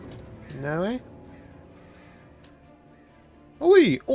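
Birds caw at night in the game Alan Wake, giving two harsh, strong calls far apart, with quiet ambience between them.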